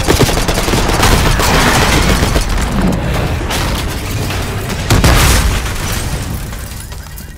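Rapid gunfire from Call of Duty Black Ops 6, dense loud bursts and booms filling the whole stretch with no pauses, close and continuous like a heavy firefight.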